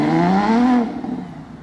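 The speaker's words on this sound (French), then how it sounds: "Porsche qui fait un peu le four sortant de rasso" A Porsche leaves a car meet, its engine loud and near, rising in pitch under acceleration, then fading quickly as it pulls away.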